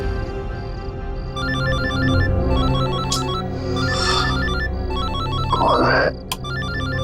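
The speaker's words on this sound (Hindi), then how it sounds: "नहीं रात को 3:30 बजे भी अनजान नंबर से फोन।" A phone ringtone chimes steadily in a repeating electronic pattern late at night in a crime drama scene, with a short spoken question and other dramatic sounds layered over it.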